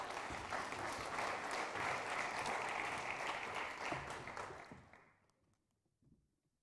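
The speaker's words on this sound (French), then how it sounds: "Merci de les applaudir." Audience at a cities-of-the-future forum round table applauding as speakers take the stage, steady dense clapping that fades out over several seconds into near silence.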